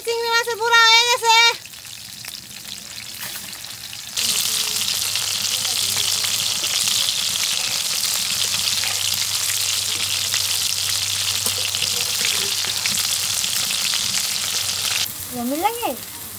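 Bengali prawn fritters fry in oil, giving off a loud, steady sizzle that swells and runs for most of the stretch, with voices speaking briefly at the start and again at the end.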